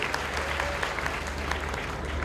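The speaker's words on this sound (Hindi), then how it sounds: "जोरदार तालियां सभी की।" Loud, sustained applause from a large festival audience at the Kalki Mahotsav, with dense steady clapping and some crowd noise filling the whole stretch.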